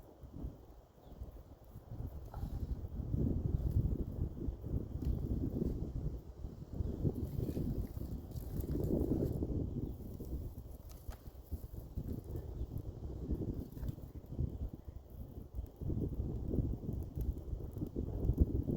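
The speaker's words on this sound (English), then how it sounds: "Now the wind helps." Wind blows steadily outdoors around a campfire where beans are being cooked, a broad low rushing roar that swells and eases in gusts for the whole stretch, with faint rustling and no talking.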